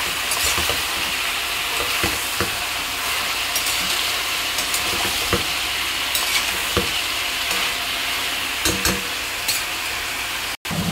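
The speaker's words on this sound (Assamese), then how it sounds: "পিয়াজ দি অলপ দেৰি ভাজি লম" Onions added to chicken frying in a pan, a close, continuous sizzle broken by repeated scraping stirs of a spatula, with no talking.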